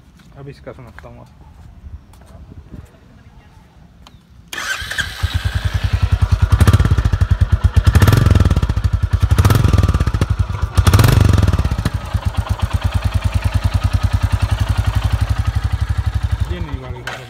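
Royal Enfield Classic 350 motorcycle fired up after a few quiet seconds, settling into a loud, close, rhythmic thumping exhaust note with several throttle blips rising and falling before returning to a steady idle.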